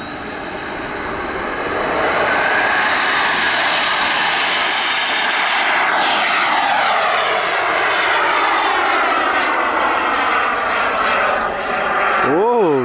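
A giant radio-controlled jet's turbine engine spools up loud and close with each nudge of the throttle, a rising whine and roar that climbs then holds steady, with a pitch sweep near the end.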